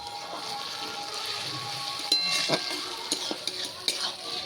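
Onions, tomatoes and chopped green chillies frying in a pan, a soft background sizzle with a few sharp metallic clinks and taps from stirring in the later half.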